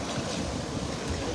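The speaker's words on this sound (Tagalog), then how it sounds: "malakas yung hangin po mga idol" Strong wind blows outdoors near the sea, a continuous rumbling gusty roar buffeting the microphone, steady and fairly loud, with surf-like wash underneath and no voices.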